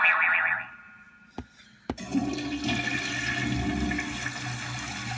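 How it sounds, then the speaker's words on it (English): Cartoon sound effects played from a soundboard: a short springy boing-like tone, two sharp clicks, then a long loud rushing water effect that runs to the end. "Some cartoon effects."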